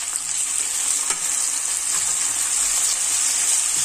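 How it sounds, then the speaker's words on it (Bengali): Onion paste and spices for doi katla fry in hot oil with a loud, continuous, close-up sizzle that holds steady throughout, with a few faint stirring scrapes. "প্রথমে পেঁয়াজ বাটা দিলাম,"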